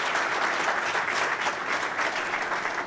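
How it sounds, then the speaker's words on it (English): Sustained applause from an audience at a public event honoring a Lieutenant Governor, a dense, steady wash of clapping at full volume throughout with no pauses. "How about a round of applause for our Lieutenant Governor as well?"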